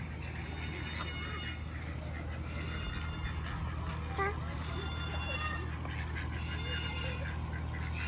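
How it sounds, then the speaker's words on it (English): A duck quacking at a drive-through safari zoo in Cameron, North Carolina, honking calls scattered over steady vehicle rumble and outdoor background noise. "There's a duck."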